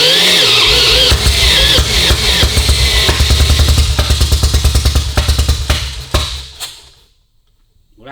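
1952 BSA M21 motorcycle engine firing after a roller start, a close, rapid pulsing thump that runs steadily for several seconds, then stumbles and dies away into near silence.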